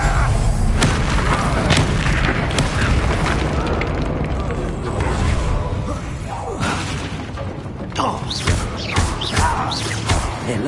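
Loud booming fire-spell blasts and crashes from the Incendio spell in a Hogwarts Legacy battle, dense and continuous, with repeated thuds and rumbling impacts layered over game sound effects and voices.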